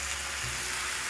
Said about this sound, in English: Once fragrant, I'm going to add tomatoes.